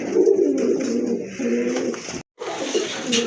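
Pigeons coo close by in deep, throaty, rolling calls that repeat with one short pause, loud and clear against a quiet background.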